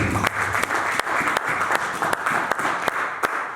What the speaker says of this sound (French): Acclame Jésus, acclame Jésus